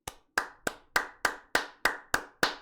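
A single person claps repeatedly, nine sharp, even hand claps in a steady rhythm, close and fairly loud with short decays between them.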